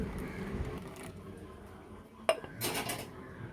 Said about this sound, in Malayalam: കുറച്ച് വെള്ളം ഒഴിച്ചിട്ട് ആ മിക്സിയും കൂടി ഒന്ന് കഴുകി ഒഴിക്കാവേ.